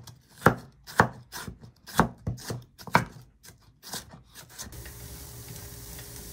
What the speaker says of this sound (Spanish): una zanahoria grande cortada a la mitad y luego en tiras delgadas